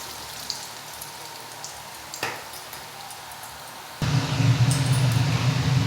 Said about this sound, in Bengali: একটা রিফাইন তেল নিয়েছি, নিয়ে গরম করে নিয়েছি। এবার আমি আস্তে আস্তে রোলগুলো ভাজবো।